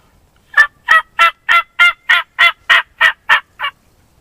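A hand-operated turkey call imitates a wild turkey's cluck or chirp for hunting in the woods: eleven sharp, evenly spaced calls in a steady rhythm, loud and close, with no other sound around them.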